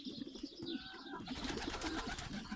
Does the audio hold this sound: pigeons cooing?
yes